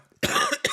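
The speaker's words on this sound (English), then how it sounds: "I apologize for coughing." A single harsh cough bursts out close by, followed a moment later by a shorter second cough, with no talking around it.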